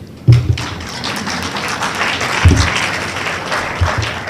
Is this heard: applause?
yes